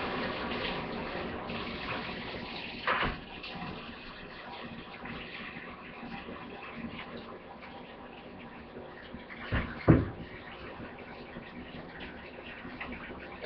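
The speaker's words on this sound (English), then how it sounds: "it's just a regular 5 gallon pail. I'm going to put some water in it" Water running from a tap into a regular 5 gallon plastic pail, a steady faint splashing rush with a couple of brief knocks.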